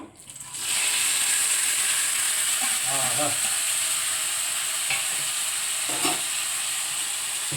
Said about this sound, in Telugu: ఇప్పుడు దీంట్లో మనం ముందుగా తయారు చేసినటువంటి పచ్చకాయ ముక్కలు టమాటా ముక్కలు వేస్తున్నాం